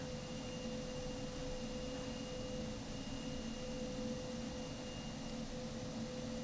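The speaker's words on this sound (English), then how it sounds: "I'm gonna turn the sound up a little bit for you guys, like this, so you can hear the engine." Steady, loud Boeing 737 MAX jet engine in Microsoft Flight Simulator 2020, a continuous whine with strong low rumble and fixed tonal hums, unbroken throughout with no talk.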